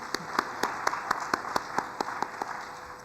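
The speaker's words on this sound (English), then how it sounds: "I want us to give a hearty clap to all the soldiers who remain" Sparse, evenly spaced hand claps from a conference audience at a Kenya universities funding event, about a dozen separate claps in a loose rhythm, moderately near and without talk.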